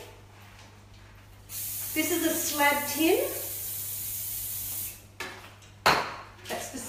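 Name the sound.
cooking oil spray sprayed into slab tin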